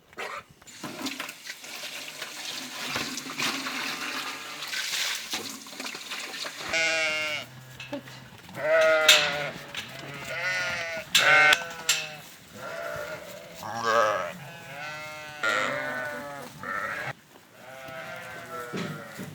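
A large flock of nearly 200 Karacabey merino sheep bleats repeatedly, with overlapping calls of varying pitch, some near and loud, others farther off, after a quieter opening.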